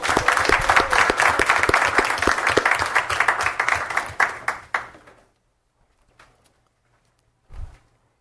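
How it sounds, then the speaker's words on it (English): Applause at a school board meeting for student reporters, a brisk, loud clapping crowd that thins out over several seconds and stops, followed by near silence broken by a couple of faint knocks. "One more round of applause for our student reporters."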